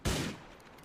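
A single loud gunshot burst from GTA IV, sharp and close, with a short decaying tail and no talk.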